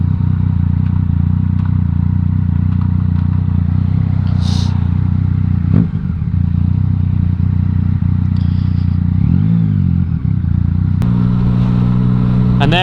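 Motorbike engines on the Isle of Man TT course during 2022 speed-limit restrictions, a loud continuous close-up engine drone with wind rush, a couple of brief clunks and rising revs near the end, with no talk.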